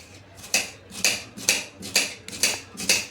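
Onions being sliced lengthwise on a cutting board for a Maharashtrian dal and onion curry, a knife making six crisp, evenly spaced chops at a steady rhythm. Each stroke sounds close and distinct, with no talking.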